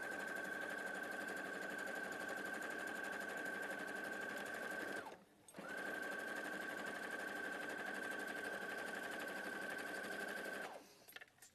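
A sewing machine stitches fabric in two long steady runs, its even mechanical whir holding a constant pitch, with a short pause around the midpoint and the motor stopping near the end.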